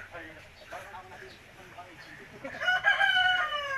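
A rooster crows loudly near the end, preceded by softer clucking and background chatter from people nearby.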